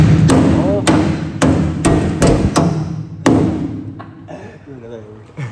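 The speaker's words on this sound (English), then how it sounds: "give me a hammer" Hammer blows on a Ford F100 truck part in a shop, about seven loud, sharp strikes spaced roughly half a second apart, with faint talk between and after them.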